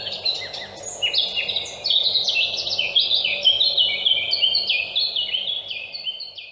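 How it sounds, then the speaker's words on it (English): Several birds at dawn chirp and trill back and forth in overlapping bursts, a steady chorus of bright calls at moderate distance with no voices. "At dawn, Lulu woke to the sound of birds calling to one another."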